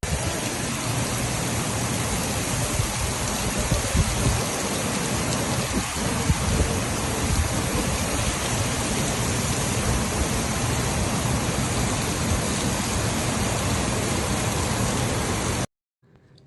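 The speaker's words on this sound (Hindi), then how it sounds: "ये बारिश चेक करें" Heavy rain pours in a dense, loud, continuous hiss after a downpour that flooded the road, steady throughout before cutting off abruptly at the end.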